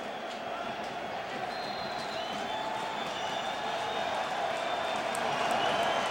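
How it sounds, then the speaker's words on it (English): Loud, steady stadium crowd roar at the 2005 Insight Bowl college football game between Arizona State and Rutgers, a dense wash of noise that swells slightly toward the end, with no clear voices. "the crowd noise that they put in included exactly what I'm hearing now"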